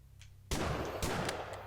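Grenade blasts in the horror game Lovecraft's Untold Stories: a sudden loud explosion followed by a second heavy blast and rumbling debris, close and alone without talk.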